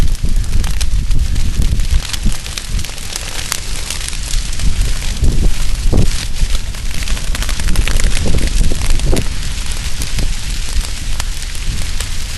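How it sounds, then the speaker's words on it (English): A slow-burning backfire creeps through a native production grass field on an east wind, giving a steady close crackle and rushing roar with scattered sharp pops throughout, no talking. "But that slow burning fire right there, backfire, and this is kind of a side head fire"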